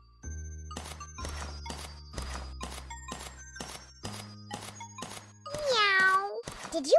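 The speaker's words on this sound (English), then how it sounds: "Help me figure out what that meow was." A series of regular knocks and taps, then a clear, rising cat meow near the end, close and fairly loud.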